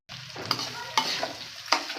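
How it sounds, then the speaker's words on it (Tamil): Anchovies and other ingredients sizzle in a hot pan while a utensil scrapes and stirs, with a few sharp clacks against the pan over the steady frying hiss. "எல்லாத்தையும் நல்லா மிக்ஸ் பண்ணி விட்டுட்டு நல்லா வதங்கட்டும்னு இருக்கட்டும்"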